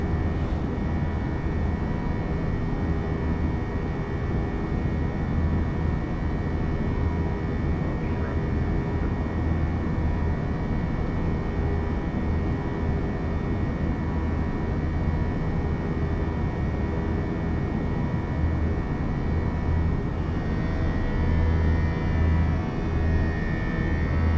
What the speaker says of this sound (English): Literally sounds like you're on an airplane.